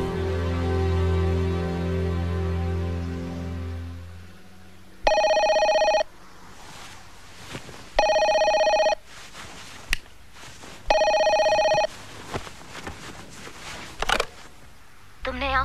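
A telephone rings three times in steady, evenly spaced bursts of electronic tone, loud and close, with a scene of dialogue and background sound between the rings.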